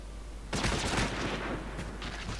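Rapid bursts of gunfire in Final Fantasy XIV, a sharp volley of closely spaced shots starting abruptly and repeating in quick clusters, loud and close.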